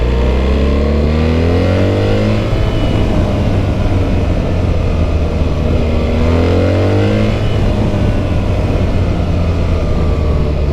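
A BMW R1300GS motorcycle fitted with an Akrapovic exhaust revs loudly and close by, its steady engine drone swelling in two rising throttle sweeps, with no voices over it.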